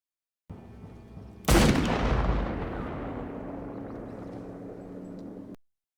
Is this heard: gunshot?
yes